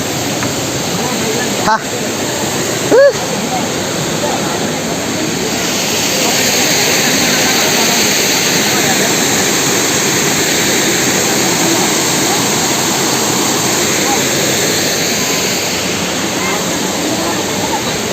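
Langvoku waterfall in Karbi Anglong, Assam, roaring as a loud, continuous broadband rush, with a brief spoken word near the start.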